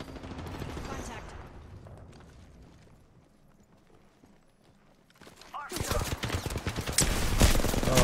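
Gunfire erupts in Apex Legends, a burst-like volley that starts after a quiet stretch and grows loud and dense toward the end, with game voice callouts and noise before it.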